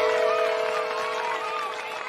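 Cheering and applause from an audience in a Family Guy cartoon, a dense, steady wash of clapping and voices heard at moderate level over its short span.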